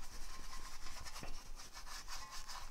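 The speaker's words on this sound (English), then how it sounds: "Then I get a crappy brush that I have and kind of just clean everything up." A stiff brush scrubbing brake parts and clearing brake dust on a 2017 Subaru STI during a rotor and pad job, a continuous close rasping rub with quick back-and-forth strokes.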